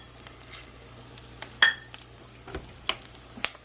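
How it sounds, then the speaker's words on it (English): Red chilies, coriander seeds and cumin seeds fry in hot oil for tomato rasam, giving a soft, steady sizzle broken by a few sharp clinks of a stirring utensil against the pan. "I'm going to fry until it releases aroma"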